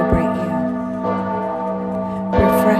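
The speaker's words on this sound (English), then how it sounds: "Listen to the bells." Church bells ring in rich, sustained tones, with strikes near the start, around one second and near two and a half seconds, each blooming over a long humming resonance that never fades out.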